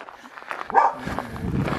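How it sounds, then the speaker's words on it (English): An old dog barks a few times at a lighthouse nature spot, one sharp close bark standing out near the middle with quieter yips and outdoor rustle around it. "oh, that's the dog."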